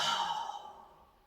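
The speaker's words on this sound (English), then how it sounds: "Hado breathing is that deep," A single deep, guttural exhale from a Hado breathing exercise, loud at first and fading into quiet, with no speech.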